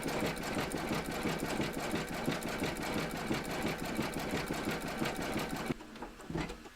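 Embroidery sewing machine stitching a satin stitch border, a steady, rapid mechanical chatter running continuously for several seconds close up, then stopping abruptly into a few faint clicks.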